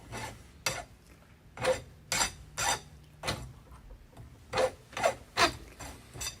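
Hand file rasping across copper wire in several separate short bursts, each a dry scraping stroke in one direction, close and fairly loud with quiet pauses between.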